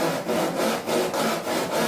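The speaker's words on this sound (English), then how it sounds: "And cut this with a simple saw about 1132 deep, 9mm." A simple hand saw cuts a shallow self nock into a wooden arrow shaft, giving a steady rasping rhythm of about seven strokes, loud and close with no voices.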